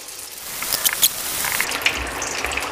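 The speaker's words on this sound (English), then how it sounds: "we are going to add our rolls in very gently, and we're going to fry them until they're nice and golden brown in colour" Chicken and vegetable filo spring rolls frying in a hot wok, a steady bubbling sizzle with scattered crackles and pops, close and continuous, no voices.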